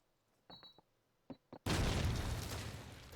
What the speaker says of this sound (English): Good nades coming over from Eyeshow.